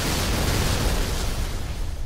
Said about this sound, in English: You're going to start off with explosion.